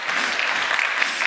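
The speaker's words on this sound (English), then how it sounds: "So if you're all going to clap, could you please clap for her?" A conference audience applauds after a talk, a dense burst of many hands clapping together, steady and fairly loud across the short moment.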